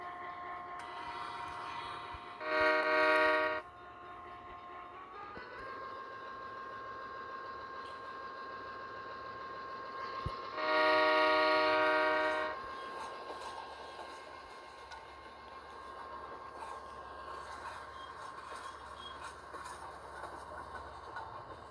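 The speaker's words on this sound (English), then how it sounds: "I'm supposed to take charge of this train." Train running in the Train and Railyard Simulator game, a steady low mechanical rumble with a sustained tone that rises partway through, broken by two loud bursts of bright horn-like blasts, with no talk.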